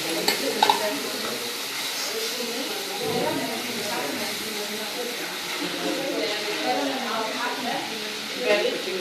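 Crêpes Suzette sizzling and hissing in a hot pan, with a steady frying crackle and stirring under ongoing conversation.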